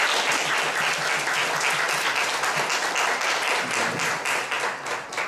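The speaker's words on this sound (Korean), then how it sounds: "뜨거운 박수 부탁드리겠습니다" A church youth worship audience gives warm, steady applause, dense and continuous clapping throughout, with a few faint voices beneath.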